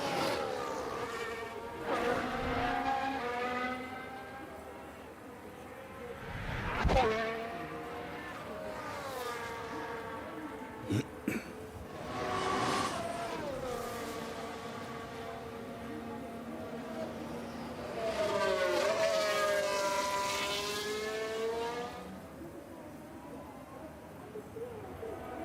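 F1 cars in the F1 Manager 2013 mod at the Spanish race, with high engines whining and sweeping past in repeated passes that rise and fall in pitch, faint and distant, under someone talking.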